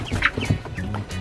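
Backyard chickens in Jamaica cluck and call in short repeated bursts, fairly close and moderately loud, with no talking over them.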